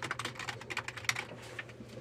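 Rapid, uneven keystrokes on a computer keyboard at a new desk, close and fairly quiet, clattering steadily with no one talking.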